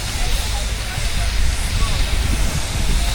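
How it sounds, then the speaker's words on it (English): A Sentinel steam wagon at an outdoor steam rally gives off a loud, steady hiss of steam over low rumbling, continuous for the whole stretch with no clear breaks. "But this is on Sentinel steam wagon."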